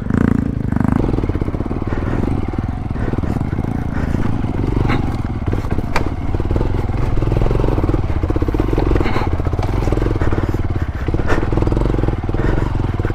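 A motorcycle carrying cargo runs continuously along a rough rural road to a remote sitio in General Nakar. The engine is loud and close throughout, with scrapes and rattles from the rough surface.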